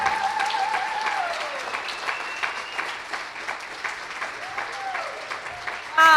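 Applause at an alumni brunch in New York, a sustained crowd clapping that gradually thins out over several seconds, with voices audible underneath.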